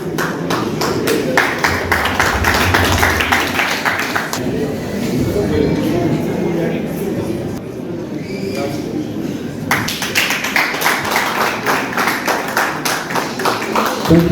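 Applause for first prize winners at a Nigerian award ceremony: a crowd claps in rapid, rhythmic bursts, loud and sustained at the start, pausing mid-way under a voice, then resuming strongly.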